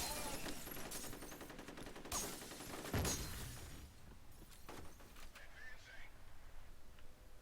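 Gunfire from the 2005 PC shooter F.E.A.R., several bursts of rapid automatic fire and sharp shattering impacts that thin out toward the end, with a voice talking over part of it.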